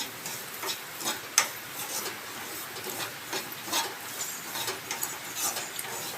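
Rava (semolina) roasts in oil in a pan, giving a soft, steady hiss with scattered light ticks and scraping stirs, close but fairly quiet.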